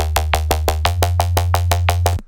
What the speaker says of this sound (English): This one's called Bass Pluck Crunchy because it has exactly that. And it sounds like this.